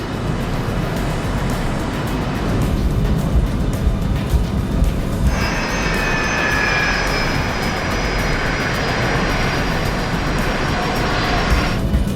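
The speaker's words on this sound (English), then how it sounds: "they're piloting a British-built BAE 146 commuter jet. With quiet turbofan engines" Steady roar of BAe 146 turbofan jet engines inside the aircraft cabin, with a high whine joining midway and holding continuously.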